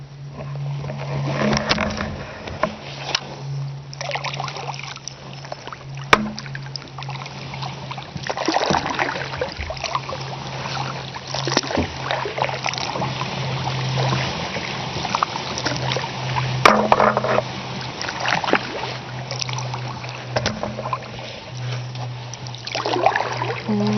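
A kayak moves through lily pads on Barber Lake, with soft water trickles and splashes from the paddle over a steady low hum. The sound is moderately close and continuous, with occasional small knocks.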